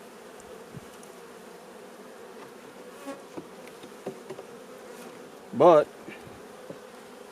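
Honeybees in a hive keep up a steady, close, humming drone, with a few soft knocks and a single brief spoken word near the end.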